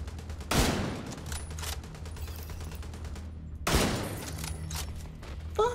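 Gunfire in the video game Tom Clancy's The Division 2: two loud, close bursts of rapid shots, one near the start and one later, with a steady rattle of sustained firing between them.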